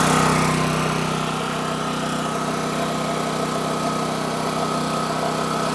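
The engine of an impact mill rock crusher for gold ore runs throttled up, a steady close-up drone with a constant whine and vibration and no talking.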